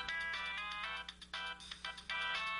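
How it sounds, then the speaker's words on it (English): Electronic ringtone-style notification alert for a new text message on a phone indoors at home, a bright tonal chime pattern repeating in bursts with brief gaps, fairly clear and alone with no talking. "How many times have you heard that sound in your home? A new text message."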